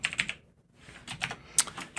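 Typing on a computer keyboard while entering code: a short run of close, crisp key clicks with a brief pause in the middle, no talking.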